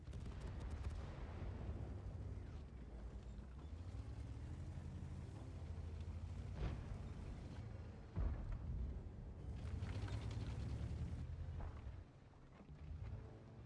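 An artillery battery fires in World of Tanks, with muffled booms and thumps under a steady low engine-like rumble, set in a Road to Berlin battle.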